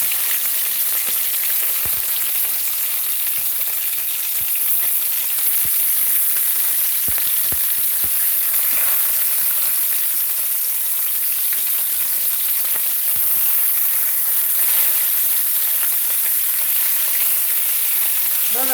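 Chicken thighs frying in a pan for a keto recipe, giving a loud, continuous crackling sizzle with small pops and occasional utensil taps, close up and steady throughout, with no talking.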